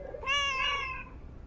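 A single clear, drawn-out cat meow from the video game Lake, heard alone against a quiet background.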